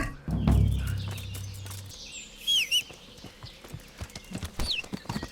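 A horse's hooves clip-clop at a steady walking rhythm in the medieval video game Kingdom Come Deliverance. A few loud hoof strikes open the clip, and faint bird chirps and rustling sit in the background.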